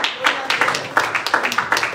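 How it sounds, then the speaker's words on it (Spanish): Scattered hand claps in an irregular rhythm, a small church congregation applauding briefly with a few sharper claps standing out. "Un aplauso al Señor."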